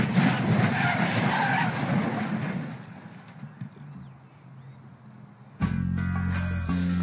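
Car skidding with its brakes smoking: a loud, rough rush of tyre and engine noise that fades away, followed by a sudden burst of engine roar.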